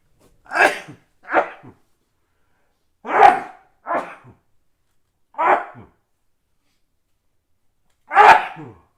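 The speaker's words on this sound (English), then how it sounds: "And I'm about to sneeze." Six human sneezes, short, sharp bursts spaced a second or two apart, loud and close, with silence between them.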